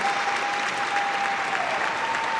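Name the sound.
arena crowd applauding a figure skating performance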